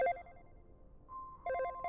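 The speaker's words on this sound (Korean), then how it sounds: "당직실에 놓고 온 내 휴대폰이 울렸다" A mobile phone left in a night-duty room rings with a bright electronic ringtone in short repeated bursts, separated by a sustained lower tone, in a quiet setting.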